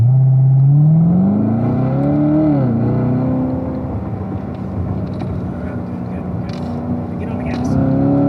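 A car at a driving school session speeds up: the engine drones and its pitch climbs, dips, then holds a steady, loud note, with a voice talking over it.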